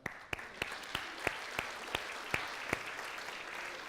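An audience applauds a guest joining a panel on stage at a youth mental health event, a few sharp claps standing out over a steady, moderate patter of clapping that continues evenly.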